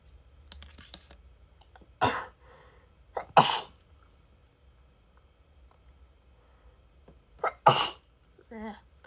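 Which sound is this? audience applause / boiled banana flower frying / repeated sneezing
repeated sneezing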